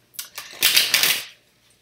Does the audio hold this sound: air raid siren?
no